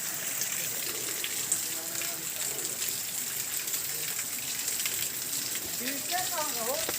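Rushing water from a rain-season waterfall at a hillside tourist spot, a steady broad gush throughout with bird chirps near the end.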